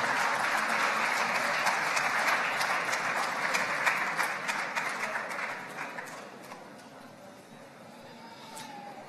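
Audience at a nature photography award ceremony applauding a prize winner, a full sustained round of clapping that gradually thins and fades toward the end.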